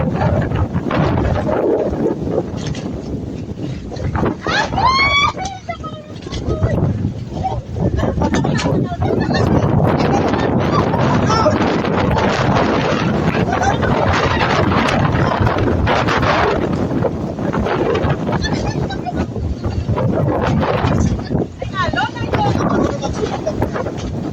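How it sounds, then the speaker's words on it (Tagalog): Strong gusty wind buffets the microphone continuously in El Nido, a loud rumbling roar throughout, with voices talking intermittently underneath. "Malakas nga daw yung hangin."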